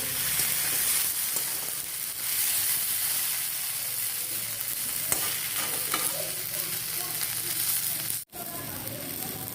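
Tomato, onion and green chili fry in a pan for a Bengali puti fish curry, a steady close sizzle with stirring scrapes throughout and a brief dropout near the end.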